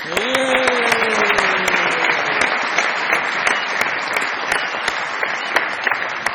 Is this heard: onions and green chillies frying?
no